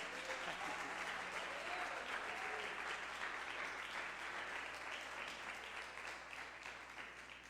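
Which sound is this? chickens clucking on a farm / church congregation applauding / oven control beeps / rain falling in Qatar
church congregation applauding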